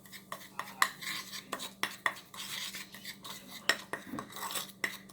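A spoon mixes a baking soda face scrub in a small bowl, giving quiet, irregular clinks and scraping taps against the dish, close up and alone.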